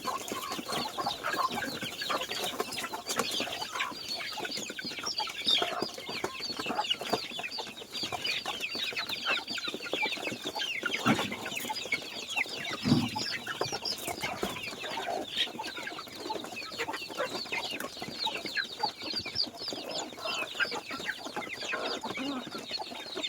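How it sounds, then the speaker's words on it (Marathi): Free-range desi (gavran) chickens cluck steadily while pecking at rice scattered on a plywood board outdoors, a dense, continuous flock chatter with no talk over it. "अशा प्रकारे आपण आपल्या कोंबड्यांना भात टाकतो आणि बघू शकता की आपल्या ज्या कोंबड्या तशा छानपैकी खात आहेत।"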